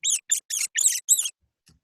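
A quick series of five high-pitched mouse squeaks in rapid succession, close and fairly faint, then quiet.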